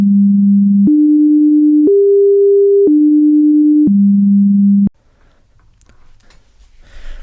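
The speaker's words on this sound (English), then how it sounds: "The fourth harmonic is a doubling of the second harmonic," A pure sine tone steps through a series of steady pitches, rising and then falling back, with the fourth harmonic sounding an octave above the second; the tone is loud and clean, then gives way to near silence with faint noise.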